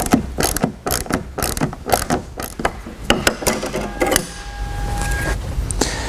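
Torx screws loosened on a Volvo license plate lens cover with a ratcheting driver, giving rapid close clicking ratchet bursts in uneven runs, followed by a steadier whirring mechanical sound near the end; no talking.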